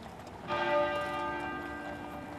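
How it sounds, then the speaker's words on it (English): The great tenor bell of Westminster Abbey strikes once with a loud, clear toll, its rich hum lingering and slowly fading over a low background murmur. "At 9:08 a.m., the great tenor bell at Westminster Abbey began to toll."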